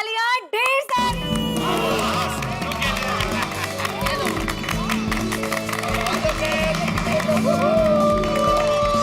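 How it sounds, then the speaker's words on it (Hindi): A studio audience claps and cheers for Sonu on a Hindi television comedy set, with a dense, steady round of applause that swells after a brief pause and carries on under music. "तो हो जाए इनके लिए तालियां ढेर सारी।"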